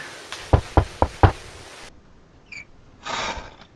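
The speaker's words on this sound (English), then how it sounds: "Knock at door." Four sharp knocks on a door in quick succession, close and distinct, followed by quieter faint shuffling and a soft hiss as the door is opened.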